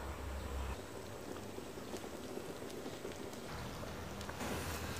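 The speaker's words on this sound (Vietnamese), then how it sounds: "Khi mà nó sôi vậy nè, mình sẽ cho nhỏ lửa lại nha." Pot of sweet potato and shrimp soup boiling on the stove, a steady soft bubbling and simmering hiss that runs throughout, fairly quiet with a faint low hum at the start and end.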